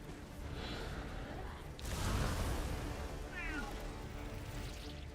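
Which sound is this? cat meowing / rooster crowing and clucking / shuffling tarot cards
cat meowing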